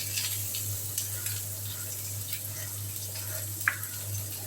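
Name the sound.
chopped onion frying in oil for periwinkle curry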